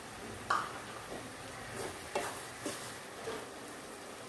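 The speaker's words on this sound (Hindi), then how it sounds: "अब हम इसके अंदर शक्कर ऐड करेंगे।" Sugar being stirred into a pan of sweet noodles (sarauli), with soft scraping strokes and a few sharp utensil clicks over a low sizzle, fairly faint and repeated at irregular intervals.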